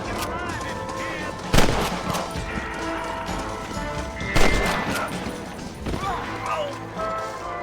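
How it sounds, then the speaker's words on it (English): Gunfire in the Western video game Red Dead Redemption, three loud, sharp shots spaced a few seconds apart over a busy game soundtrack with voices. "Not a bad shot, Mr. Marston."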